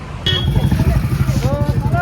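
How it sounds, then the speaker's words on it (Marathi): A motorcycle engine started by kick catches and idles with a steady low chugging throb, close and fairly loud, after a short quiet moment at the start. "गाडी किक मारतो आता"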